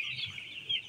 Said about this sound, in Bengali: ওখানে আমাদের একটা মুরগি চিচি করতেছে